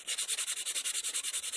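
Wood being hand sanded to remove vise marks, a fast regular back-and-forth rasp of about ten strokes per second, close and steady with nothing else heard.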